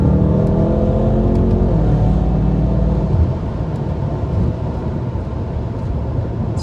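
BMW F10 M5 accelerating to overtake on an open road, a loud, close engine roar with rising harmonics that eases into a steady rumble after a few seconds.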